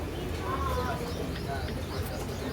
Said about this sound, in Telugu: ఈ బర్డ్స్ ఇక్కడ ఇక్కడ ఎక్వేరియం దగ్గర ఉన్నాయి